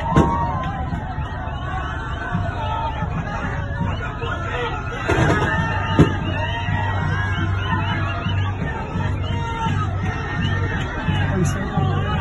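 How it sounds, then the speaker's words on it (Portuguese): A crowd of Vasco football fans celebrates at a welcome party for the team in Manaus: dense outdoor babble, shouting and cheering, with occasional bangs like fireworks popping through the steady roar. "essa festa bem bonita, bem legal, ontem da torcida do Vasco em território manauara"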